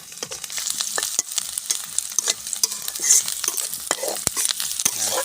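Malabar spinach stem seeds fry in a pan while being stirred briskly, a loud close sizzle broken by rapid, uneven scraping and clatter of the spoon against the pan, with no one speaking.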